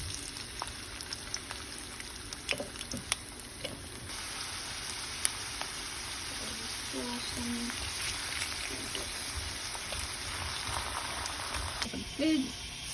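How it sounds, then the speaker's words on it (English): Three potatoes frying in a pan with melted butter, a soft continuous sizzle with occasional small pops and clicks, heard fairly faintly along with brief murmured speech. "Okay, we're gonna fry the potatoes."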